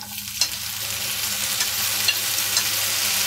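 Chopped tomatoes sizzle and spatter in hot oil in a pan for pav bhaji while a spoon stirs them, giving a steady close frying hiss with scraping and clinking strokes; no one speaks.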